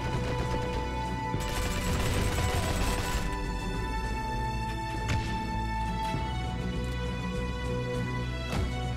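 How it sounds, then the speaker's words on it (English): An M3A1 grease gun submachine gun fired from the hip in a video game, with repeated sharp shots in short bursts over a steady backdrop of game ambience and music. "The gun's hip fire is very good compared to other guns"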